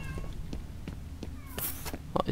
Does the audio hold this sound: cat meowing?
yes